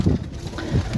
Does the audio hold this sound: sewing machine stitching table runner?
no